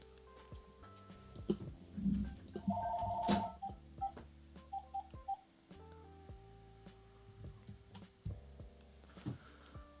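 A landline telephone call at home: steady dial-tone-like beeps and tones with faint ticks and hum, fairly quiet and close, with no talking.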